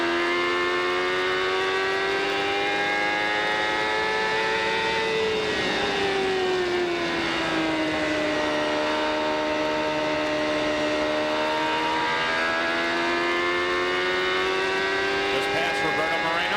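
Onboard engine of a CART race car at the 1996 Milwaukee race, a loud continuous high-pitched whine that sustains near full throttle, dips slightly and climbs again through the lap.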